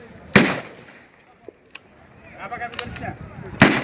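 Rifle shots ring out at a VDP trainee firing practice: two sharp, loud reports about three seconds apart, with a few faint pops and people talking between them.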